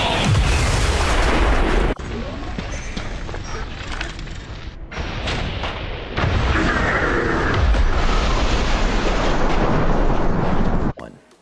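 Explosions and heavy combat effects in the XCOM 2 video game, a dense, loud continuous barrage of booms and rumbling mechanisms with abrupt cuts between bursts.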